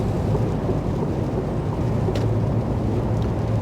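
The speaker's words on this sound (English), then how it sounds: "Whoa, it's windy." Strong wind roars steadily, a dense low rumble with gusty buffeting that never lets up, loud and close.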